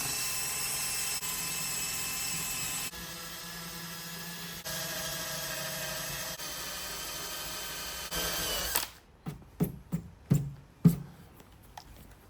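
A power tool whines loudly and steadily close by as it strips old material back to clean bodywork on a BMW F87 M2, then falls silent, leaving several sharp knocks and taps.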